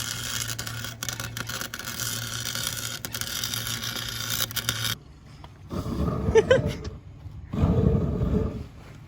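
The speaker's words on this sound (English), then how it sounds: "Really just heating up the fucking pinion." A torch heats the differential pinion from a Nissan 350Z drift build, giving a loud, steady roaring hiss for about five seconds before cutting off. Quieter shop noise and voices follow.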